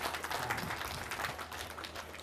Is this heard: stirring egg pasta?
no